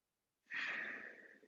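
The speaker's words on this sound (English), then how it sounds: "Let's do one more big breath." A single deep breath drawn in during a seated stretch break, a long airy inhale that begins after a short silence and fades gently toward its end, close and clear with no talk over it.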